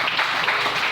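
Dense, steady applause from a church congregation fills the whole second, loud and close, with no voices rising above the clapping.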